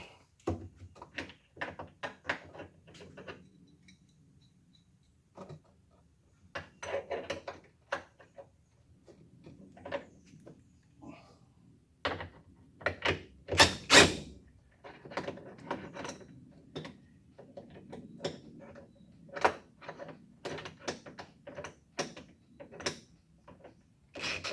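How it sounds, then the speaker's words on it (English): Fasteners being tightened on a vice under restoration, with scattered close metallic clicks, taps and ratchet-like ticks in irregular bursts over a quiet workshop background. "Let's see what we can do about tightening these fasteners up."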